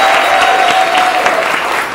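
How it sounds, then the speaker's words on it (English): Loud, dense applause from a crowd at a cocktail event at Soul Gastrolounge, steady clapping throughout with a slight fade at the end. "Big round of applause for them."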